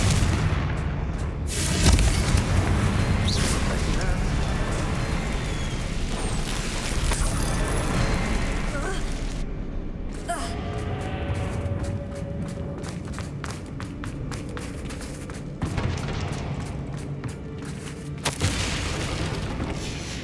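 A Confringo fire spell cast in Hogwarts Legacy bursts into a series of deep, booming explosions over a dense, busy game soundscape, with thuds and mechanical clatter carrying on throughout.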